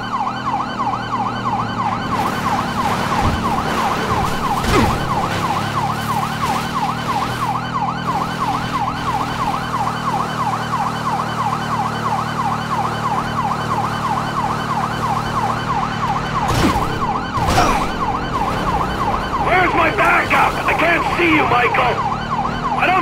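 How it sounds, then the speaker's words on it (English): A police siren in the video game GTA 5 wails and cycles steadily and loudly throughout, with engine rumble beneath and a few sharp thuds and crashes partway through. "I don't think they can hear the sirens."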